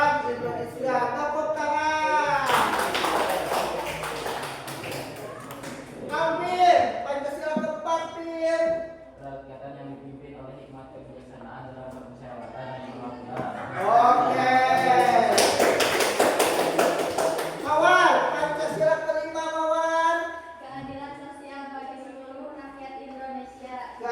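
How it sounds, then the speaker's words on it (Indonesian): A classroom of students claps in two loud, dense bursts of rhythmic clapping, with children's voices chanting and talking through and between the bursts. "Tepuk tangan."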